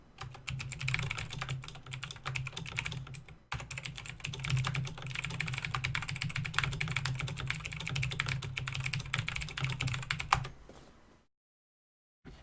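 Fast, continuous clacking on a computer keyboard goes on for about ten seconds at close range, pauses briefly once, then stops and is followed by silence.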